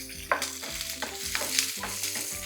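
Garlic and cumin seeds fry in oil while a spatula stirs in a quick, regular rhythm of scrapes over a continuous close sizzle, with no talking.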